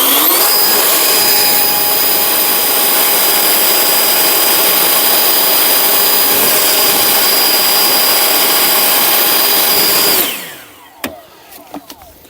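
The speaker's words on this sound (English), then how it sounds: "Now we're going to test the Kress 850 CFM blower, and we're going to see how far this can go" A Kress 850 CFM leaf blower runs at full power outdoors, a loud, steady close-up roar with a whining tone for about ten seconds, then cuts off and winds down, followed by a few faint clicks and taps.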